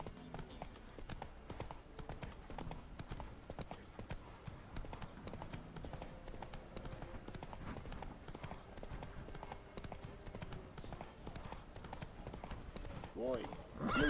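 In The Witcher 3: Wild Hunt, a horse gallops along a road with a steady, rapid clip-clop of hooves that runs the whole way, while a voice talks over part of it.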